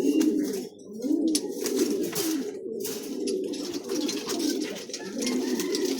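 Imported Taiwan pigeons coo in repeated low, throaty, rolling calls from several birds close by, overlapping almost without pause, with faint higher chirps and clicks scattered above.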